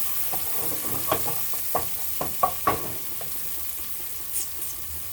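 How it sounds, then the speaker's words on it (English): Chicken for curry being stirred in a hot pan, a spoon scraping and clacking at irregular intervals over a steady low sizzle, close and fairly quiet. "We're cooking it a little bit. So we're just going to keep mixing it till it's no longer clunky."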